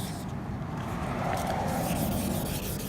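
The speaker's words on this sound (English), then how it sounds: "Literally just gonna sand this." Steady wet sanding of faded carbon fiber with 1000 grit sandpaper, a continuous close rubbing and scraping hiss with no break.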